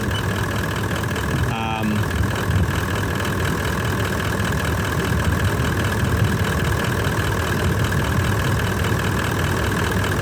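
A car engine idles steadily during a charging test, a constant, fairly loud mid-to-low rumble with no revving and a brief click early on.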